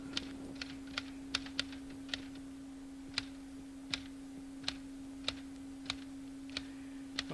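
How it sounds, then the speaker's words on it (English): Single keystrokes on a computer keyboard pressed one finger at a time, about a dozen sharp clicks at irregular, unhurried intervals over a steady electrical hum. "Okay, one finger touch typing."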